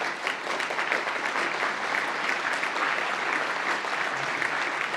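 A graduation ceremony audience claps for newly presented graduates, steady dense applause filling a large hall from start to finish.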